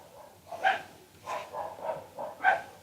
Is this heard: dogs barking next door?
yes